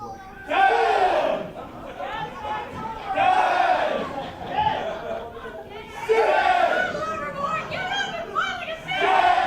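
Wrestling crowd at a Cross Body Pro Wrestling show shouting together in loud, rhythmic bursts during a referee's ten count, voices rising and falling in repeated waves.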